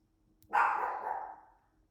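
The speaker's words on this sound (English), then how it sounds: "my dog's barking" A dog gives one sharp, fairly loud bark indoors, reacting to neighbors' lawn mowing, with a short fading tail and quiet surroundings.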